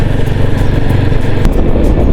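A motorcycle engine runs loud and close on the high mountain road to Khardung La in Ladakh, a low rumbling drone with no talk over it.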